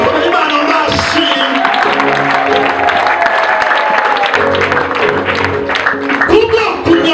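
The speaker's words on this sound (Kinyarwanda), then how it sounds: "Komera Imana amashyi." Sustained clapping from a church congregation giving praise to God continues for several seconds, busy and even, while a voice talks over it throughout.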